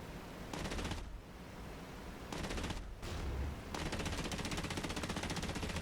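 Machine gun fire in a flight combat video game, loud sustained bursts of rapid automatic shots separated by short pauses.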